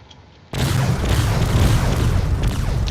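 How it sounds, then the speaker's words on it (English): Weapon fire erupts in a Drone Wars space battle, a sudden loud burst of booming shots that keeps rumbling and crackling after a quiet start. "Almost immediately we have shots going off here."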